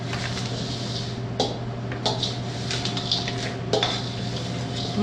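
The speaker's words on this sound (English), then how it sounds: "Let me just scrape it on the side." A utensil scrapes and stirs food in a dish, with a few sharp clinks against the side over a steady background hum.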